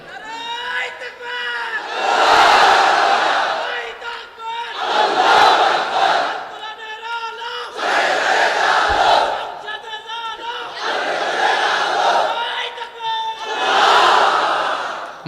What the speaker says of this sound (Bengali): তাকবীর পড়েন তো দেখি, আল্লাহর নামে পড়েন, লিল্লাহে তাকবীর